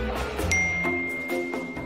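A phone's text message notification dings once, a bright sustained chime ringing out over soft background music and light clinks.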